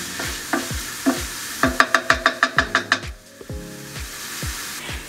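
Onions and garlic frying in a pan for shrimp scampi, with a steady sizzle under repeated stirring and scraping strokes, including a quick run of rhythmic utensil taps against the pan midway.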